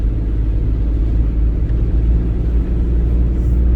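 A manual-transmission rental car climbs a hill in Nazaré, Portugal, heard from inside as a loud, steady, low engine and road rumble without a break.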